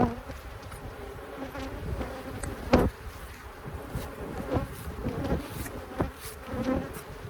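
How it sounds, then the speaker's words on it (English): A dense, continuous buzz of many honeybees on a hive frame close by, steady and loud, with occasional bumps and knocks of handling. "Brush these bees off here"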